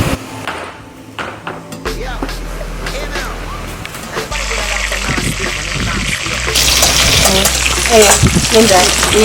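Dawa dawa, palm oil and onion fry in a pot for a Ghanaian Asante etor dish, with a loud, steady sizzle that swells midway, overlaid by spoon knocks and stirring, while people talk over it.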